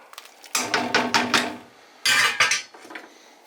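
A metal spoon scrapes and clinks against a pot while scooping thick pea soup with squash, a run of close, bright clatters followed by a second burst and a fainter scrape, with no talking.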